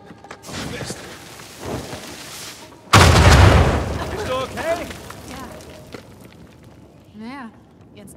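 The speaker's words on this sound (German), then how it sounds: "Wissen wir wenigstens, was vorhin explodiert ist." A loud, booming explosion bursts in the video game Uncharted 4 and its rumbling debris fades over a few seconds, with people talking before and after.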